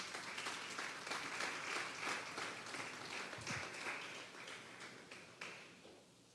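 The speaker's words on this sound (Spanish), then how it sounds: "Denle un fuerte aplauso pues al Señor" Congregation at a Sunday church service applauding to the Lord, a dense, steady wash of clapping from many hands that holds for several seconds, fairly distant and even, with no voices over it.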